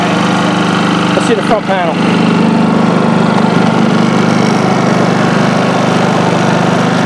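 A Westinghouse iGen4500 inverter generator engine runs at a steady idle, loud and close with a constant mechanical drone, while a person briefly speaks over it.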